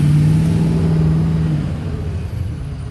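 An old flatbed truck's mid-pitched engine revs while driving, loud at first and then easing off into a steady rumble of road noise.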